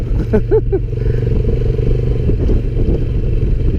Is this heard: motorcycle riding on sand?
yes